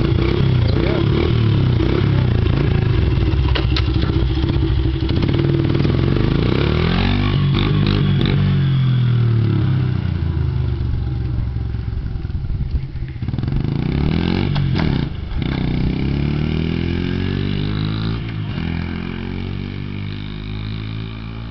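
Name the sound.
2002 Honda 70cc dirt bike engine starting and running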